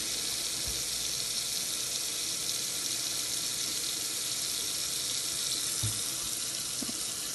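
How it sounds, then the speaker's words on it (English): Steady stream of water running from a tap into a container holding hemp for a homemade whole-hemp extract, a constant loud rushing hiss with a couple of soft knocks. "I'm going to start putting some water in here"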